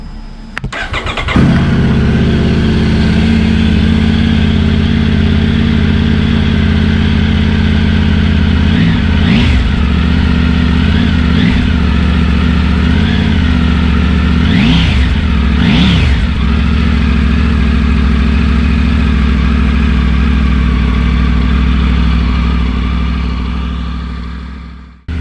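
A Triumph Tiger 900 motorcycle fitted with a Scorpion exhaust starts, then idles steadily and loudly up close, with a few sharp throttle blips partway through before it settles back to a deep, even idle.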